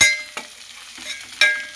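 Egg fried rice with fresh coriander being stir-fried in a pan, a quiet sizzle broken by a few sharp stirring scrapes and clanks of the spatula.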